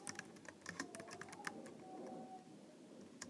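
Quiet, close keystrokes on a computer keyboard tap out an irregular run of light clicks with short pauses, with no talking over them.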